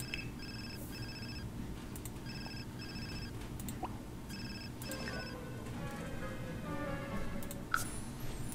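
A phone rings in The Sims 4 as the boss calls, repeated electronic ring bursts in a clear rhythmic pattern over a busy game background with a steady low hum.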